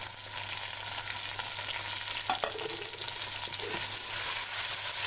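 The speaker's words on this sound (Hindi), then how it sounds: "अब टमाटरों को मैं थोड़ी देर भून लूंगी।" Tomatoes fry in a pan for mutton korma with a steady, close, dense sizzle that runs unbroken. A couple of faint taps sound partway through, and no one speaks.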